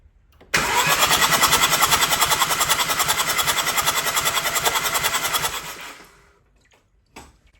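A VW T5.1 diesel van engine cranks over on the starter with a steady, rhythmic churning for about five seconds, then cuts out into near silence.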